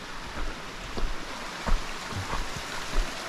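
Waterfall along the Dingford Creek trail on a foggy hike, a steady broadband rush of falling water, continuous and fairly near, with a few faint low thumps but no talk.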